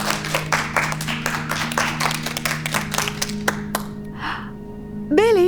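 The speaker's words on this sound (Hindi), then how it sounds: "इन दोनों के लिए तालियां हो जाए।" A classroom of children claps for two students, a burst of scattered, close handclaps that thins out over a few seconds, followed by a short rising whistle-like tone.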